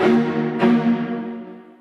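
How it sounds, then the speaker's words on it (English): Two short, punchy bowed string ensemble stabs, the second one ringing out into a long, full reverberant tail. "this time we're going to use a staccato ensemble."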